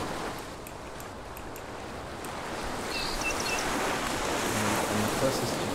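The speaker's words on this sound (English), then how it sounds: "if I get closer and closer to the water, I start to slowly hear the water get louder and louder and louder." Game water ambience from a Unity 3D soundscape, a broad steady wash of surf-like noise that swells gradually louder as the listener draws near the water, with no voices over it.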